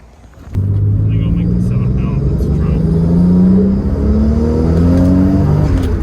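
A straight-piped Toyota Supra with a new complete exhaust starts to pull away, its loud raw drone rising and dipping as it climbs through the revs, close and continuous from start to finish.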